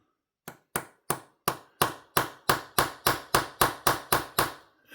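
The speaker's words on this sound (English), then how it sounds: "I'm going to try to tap this one in." A small hammer strikes a TWOSUN TS164 pocket knife part during disassembly, about fourteen sharp, close metallic taps in a steady, slightly quickening rhythm with short ringing decays and no talk.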